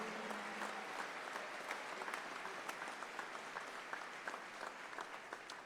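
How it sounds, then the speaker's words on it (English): A crowd applauds the families of the players at an evening Hall of Fame induction for the 1999 Spurs, steady dense clapping sustained throughout at moderate distance, with a faint voice briefly underneath early on. "Please, the families of all of our players that are here tonight, give them all a big round of applause, please."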